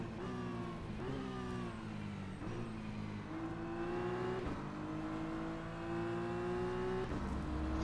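A BMW M4 GT3 race car engine in rFactor 2 revs and climbs through the gears in repeated rising pulls with brief shifts between them, steady and moderately loud, with no talking.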